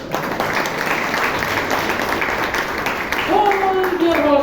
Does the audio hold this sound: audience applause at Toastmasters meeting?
yes